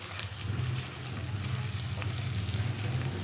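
Potato slices and onion fry in a pan with a continuous close sizzle and crackle over a low, steady hum, and no voices.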